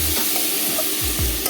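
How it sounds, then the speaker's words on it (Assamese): Pieces of kuchia eel fry in a covered pan, giving a close, steady sizzle with a few soft stirring scrapes and low knocks over the short span. "ঢাকন মাৰি মাৰি ভালদৰে ভাজি ল'ম।"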